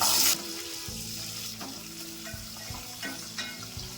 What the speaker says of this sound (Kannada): ಇವಾಗ ಒಂದು ಈರುಳ್ಳಿ ಕಟ್ ಮಾಡಿ ಇಟ್ಕೊಂಡಿದ್ದೀನಿ, ಅದನ್ನು ಹಾಕೊತಾ ಇದ್ದೀನಿ.